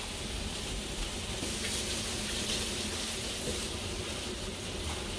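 Potatoes and onions frying in a pan give off a steady, dense sizzle that holds even and loud throughout, with faint clatter and no talking.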